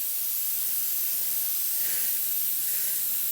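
Airbrush spraying paint for flame artwork, a continuous bright, airy hiss that stays even and close throughout with no pauses.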